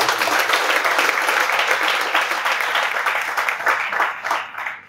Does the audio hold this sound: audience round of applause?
yes